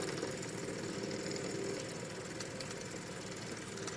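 Fuel pump on a Ford LTD running steadily as old gasoline is pumped into a can, a continuous low mechanical hum and buzz with faint rhythmic ticking, close by and without talk.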